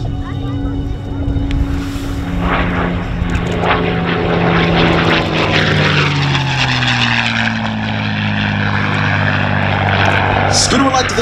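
A P-51D Mustang propeller warbird flying aerobatics at an air show, its loud engine roar sweeping overhead with a falling Doppler pitch shift, steady and powerful throughout.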